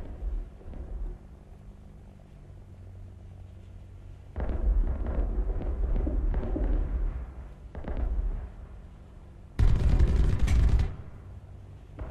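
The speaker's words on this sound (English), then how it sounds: "Our ships are firing on it." Warships fire on a hostile aircraft in War Thunder, sounding as repeated heavy booming bursts of naval gunfire in separate clusters, with one loud close barrage near the end and no talk.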